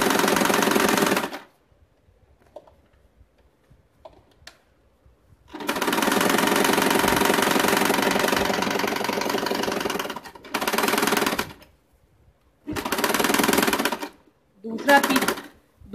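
A sewing machine stitches fabric for a bag made from leftover cloth, running in several bursts of rapid mechanical clatter with quiet pauses between them. The longest run lasts about five seconds.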